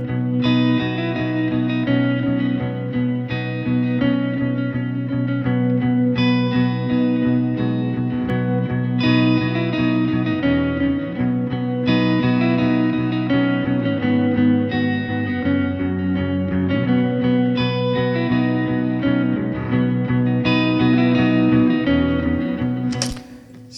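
Several electric guitars play together in a dense, sustained wash of chords with effects and distortion, steady and loud throughout with no voices.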